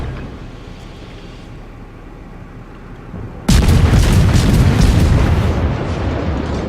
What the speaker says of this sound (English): And there goes some high explosive shells and hits SJ on the side.